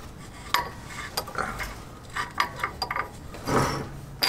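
A nut is spun loose by hand on the suspension of a Mercedes-Benz Sprinter 170 EXT 4x4 during a Rebel Sumo Springs install, giving a series of light, irregular metallic clicks and clinks with short pauses between, close and without talk.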